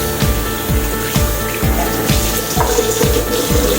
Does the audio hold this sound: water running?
yes